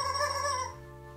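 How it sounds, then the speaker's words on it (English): A chicken, brought onto an indoor set, gives a short, close, fairly clear cluck-like call that tails off within about a second, with no talk over it. "You let a chicken into our set?"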